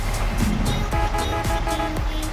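A truck engine in the video game Farming Simulator 25 cranks and turns over, rumbling steadily with repeated rhythmic pulses, close and fairly loud.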